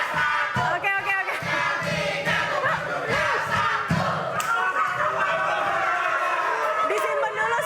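A studio audience at a televised regional election debate breaks into loud, continuous applause and cheering, with shouts and voices mixed into the crowd noise throughout.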